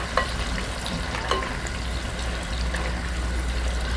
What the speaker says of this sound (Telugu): 1 కప్పు సన్నగా కట్ చేసుకున్న ఎర్రగడ్డలు అయితే వేసి వేపుకుందాం.